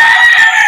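A rooster on a Philippine chicken farm breeding imported birds lets out a single short, loud crow heard up close.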